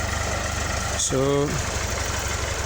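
A tractor engine plowing a pineapple field for the second plowing, a steady low rumbling drone throughout, with a short voiced sound over it midway.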